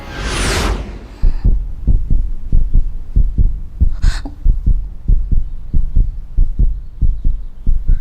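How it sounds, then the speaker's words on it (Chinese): Rapid heartbeat thumps in a steady, fast rhythm, close and prominent, following a brief whooshing burst at the start; no talking. "你现在的心跳已经超过120了"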